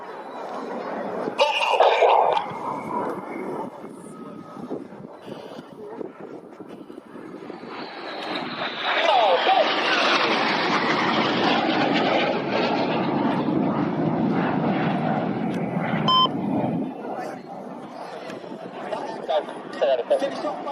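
Red Arrows jets fly a display in line astern at IWM Duxford, a rising then sustained loud roar sweeping past over several seconds before fading, with a commentator talking and brief laughter from the crowd.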